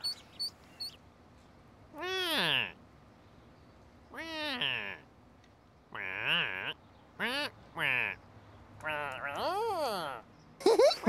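Little ducklings in a children's TV show quack and peep in several short bursts with pauses between, fairly close, each call bending in pitch, with a voice heard faintly between them.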